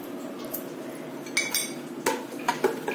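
A metal spoon clinks and scrapes against a pot while raw mango mixed with sugar, saffron and cardamom is stirred, giving a few sharp, close clinks over a quiet background with no talk.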